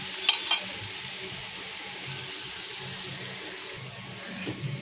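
Masala for batata wada sautéed in a pan, a steady close sizzle with a couple of sharp spoon clinks at the start and another scrape near the end.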